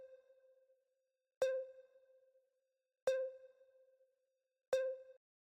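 A Shinju pluck synth plays alone with a droning, repeating pattern. Three bright, plucked hits about 1.6 seconds apart each ring out into a steady, low-level sustained tone. It sounds quiet and clean, with no voices.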